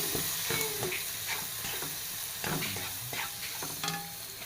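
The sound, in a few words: curry leaves and chilli, coriander, turmeric powders sautéing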